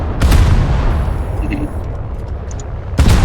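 Naval guns in a warship game shell the Helgoland, with a heavy boom at the start and another at the end framing a loud, steady rumble of battle noise.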